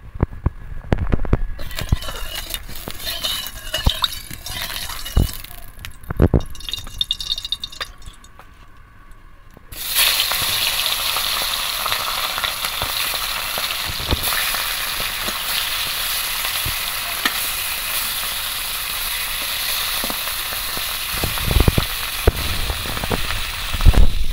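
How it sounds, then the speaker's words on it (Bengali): Quiet clattering and scattered pops give way to a loud, continuous sizzle of hilsa fish frying in mustard oil, with crackles and spatters throughout. "আমি প্রথমে ইলিশ মাছগুলো একটু হালকা করে ভেজে নেব"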